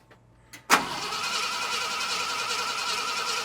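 A 1972 Ford F250 with a 390 V8 cranks without spark after being parked since 2007, a couple of brief clicks followed by a loud, steady starter whir that turns over continuously without catching.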